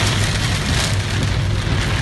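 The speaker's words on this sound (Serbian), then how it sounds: "konačno i monsunske kiše u Beogradu" Sudden heavy rain pours onto a Belgrade street during a June 2019 downpour, a loud, dense, continuous hiss of drops hammering the surface with no pauses and no talk.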